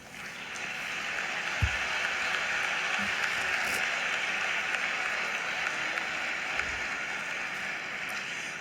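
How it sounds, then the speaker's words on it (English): Steady, sustained applause from a large graduation ceremony audience in Chicago, a dense, even wash of clapping that holds at a moderate level throughout without breaks. "Please join me in congratulating them with a round of applause"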